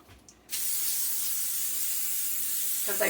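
Olive oil spray on baking sheets for English muffins: one continuous, close hissing spray of about two and a half seconds that starts abruptly and cuts off, with quiet before it.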